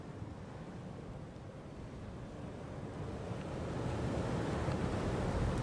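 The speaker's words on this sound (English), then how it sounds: "Look at the speed and the force of the water." Rushing floodwater gives a steady, broad roar that grows slightly louder toward the end, heard alone with no talking.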